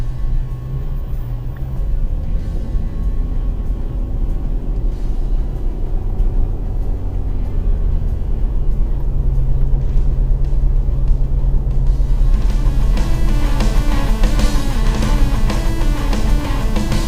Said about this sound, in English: Driving in the car.